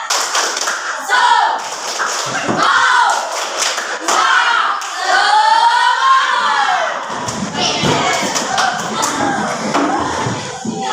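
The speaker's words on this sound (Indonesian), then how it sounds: "Tepuk semangat." A classroom of children performs a rhythmic spirit-clapping chant, claps and taps in patterned bursts mixed with excited shouting and chanting voices, loud and close throughout.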